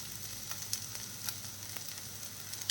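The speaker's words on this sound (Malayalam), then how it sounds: "എല്ലാം കൂടെ നമുക്ക് ഒന്ന് മിക്സ് ചെയ്യാം പൊടികളുടെയൊക്കെ പച്ചമണം ഒന്ന് മാറട്ടെ" Squid frying with chili, pepper and garam masala powders for a squid thoran, a quiet continuous sizzle with faint scraping stirs, close up and without voices.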